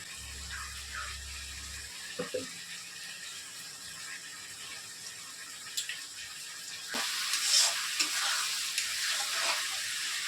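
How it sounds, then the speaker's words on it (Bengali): A spoon stirs cornflour into a little water in a bowl while chilli chicken is cooked, giving soft scraping and light clinks over a steady background hiss, with a slightly louder burst of activity toward the end. "এ কর্নফ্লাওয়ার দিয়ে বাটিটাতে একটু জল দিয়ে গুলব"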